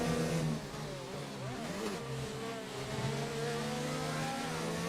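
Formula 1 car engines race in a Bahrain Grand Prix video game, a continuous buzzing drone whose pitch rises and falls with several overlapping cars, moderately loud, with no one speaking.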